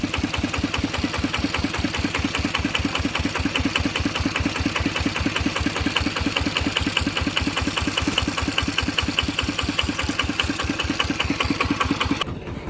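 A small farm tractor engine chugs with a steady, fast, knocking rhythm as it is driven down. It runs loud and close for the whole stretch with no talking.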